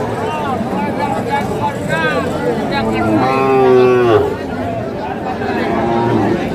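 A white cow moos loudly at a cattle market, one strong call near the middle with people chattering around it and the general din of the market behind.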